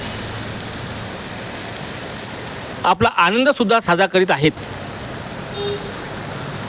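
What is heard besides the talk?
sudden unseasonal rain in the city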